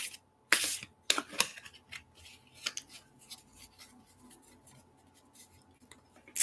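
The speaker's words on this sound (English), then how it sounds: "Shuffle, shuffle, shuffle." Tarot cards are shuffled, giving sharp riffling bursts followed by a scatter of soft, irregular clicks and taps, close and fairly quiet with no talk.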